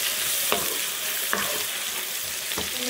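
Chopped garlic and onion frying in hot oil for a pasta dish, a loud continuous sizzle broken by three spaced stirring scrapes, no voices.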